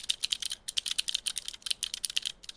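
Clicky mechanical keyboard keys typed in a rapid, steady run of sharp, bright clicks, close and crisp, with no voice over them.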